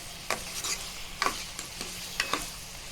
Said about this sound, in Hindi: इसको आपने हल्का हल्का ऐसे हिलाते जाना।